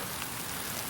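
Light rain sprinkling outdoors in Tennessee after a long drought, a steady soft hiss of drops pattering on surfaces, close and even throughout with no talking.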